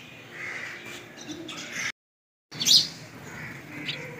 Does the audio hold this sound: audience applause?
no